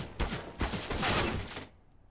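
Rapid P90 fire in Counter-Strike: Global Offensive on the Nuke map, a dense, continuous burst of shots lasting over a second and a half before cutting off, loud and close, no talk.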